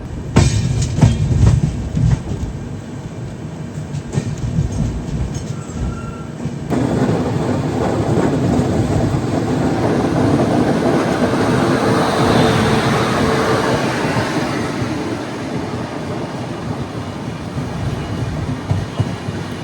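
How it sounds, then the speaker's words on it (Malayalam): Korba Kochuveli Express rolling slowly at about 15-20 km/h near Vadakkanchery station, heard from an AC 2-tier coach as a loud continuous rumble with wheel clatter and a rising rush of track noise. "പതുക്കെ അത് നോക്കി ട്രെയിൻ പോകുന്നത്."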